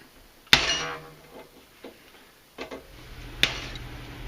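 A homemade 7.5 pound lead hammer strikes a metal tool, two sharp solid impacts spaced about three seconds apart with quieter knocks and clinks between, close by and without speech.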